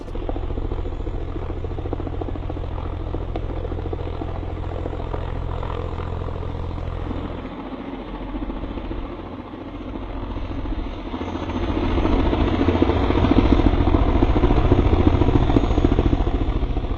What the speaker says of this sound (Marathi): हे हेलिकॉप्टर क्रॅश होताना पाहू शकतोय